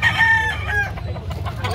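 At a chicken farm in Carbon, Cebu, a rooster crows loudly up close, followed by clucking from nearby fowl, with no talk.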